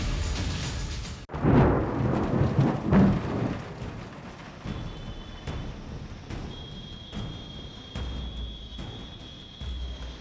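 Heavy monsoon downpour with thunder: a loud crack and rumble give way to a steady hiss of pouring rain, close and unbroken, fading slightly as it continues.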